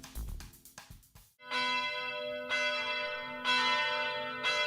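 Church bells ring out, first as a quick run of clanging strikes, then as three long, resonant tolls that swell and hang in the air, loud and close with no voices.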